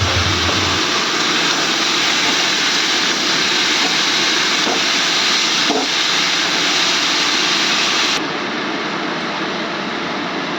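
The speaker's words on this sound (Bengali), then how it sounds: "মশলাটা কষানো হয়ে গেছে, এবার মোচাটা ঢেলে দিচ্ছি।" Chopped banana flower hits hot fried spice masala in a pan, setting off a loud, continuous sizzling hiss that holds steady and eases off slightly near the end.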